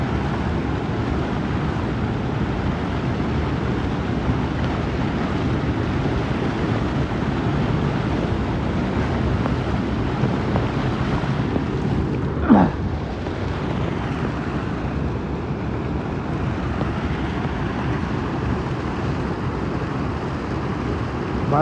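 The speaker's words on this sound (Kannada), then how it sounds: "ಭಾಳ ಫೋರ್ಸ್ನಾಗ ಬರತೈತ್ರಿ ನೀರು" Water rushes with great force at a waterfall, a steady, loud broadband roar that carries on unbroken, with a brief louder splash or gust partway through.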